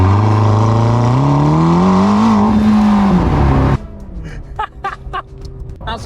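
A McLaren supercar with a 4-litre twin-turbo V8 roars as it accelerates hard, the engine note climbing loudly for several seconds before cutting off abruptly, followed by quieter rustling and faint knocks.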